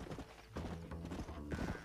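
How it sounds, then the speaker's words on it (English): A black horse in Red Dead Redemption clip-clops with hoof beats and gives a whinny, close and fairly quiet, with a brief bit of voice underneath. "All right, come on, new black horse."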